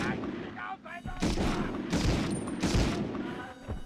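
Rocket launcher fire in a video game sounds as dense, continuous booms and blasts, loud and overlapping, with someone talking faintly underneath.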